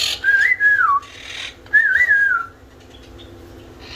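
Conure parrots whistle in a breeding cage, two clear rising-and-falling whistles about a second apart with a short gap between, close and fairly loud over a quiet background.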